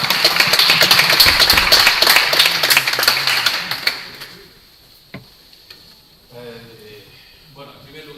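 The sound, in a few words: audience applause for speaker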